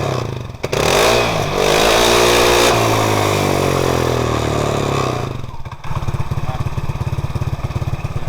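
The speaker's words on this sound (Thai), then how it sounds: "ถ้าทำมาขนาดนี้ท่อขนาดนี้ ต้องขอฟังเสียงหน่อยว่ะได้ อัดเครื่องหน่อย" A motorcycle with a modified exhaust pipe is revved hard nearby, its engine roaring up and holding a loud, raspy drone before dropping to a fast, chattering idle.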